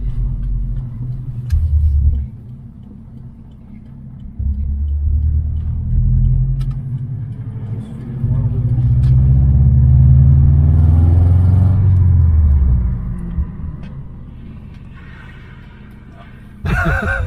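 A Subaru STI rumbles low, then builds into a strong, rising engine roar during a sustained acceleration before easing off, with a short final burst of engine noise at the end.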